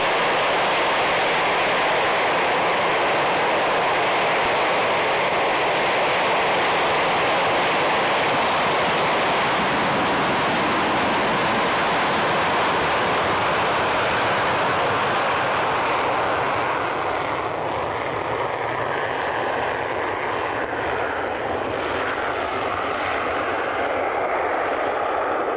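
A jet aircraft roars down the runway on its takeoff run at an evening airshow at Coningsby, its loud, continuous, broadband engine noise filling the scene before easing slightly toward the end.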